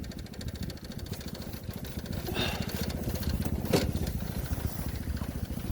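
A Tao GK110 go kart engine runs steadily at a loud, close idle-to-rev drone, with a rough, pulsing mechanical rumble throughout.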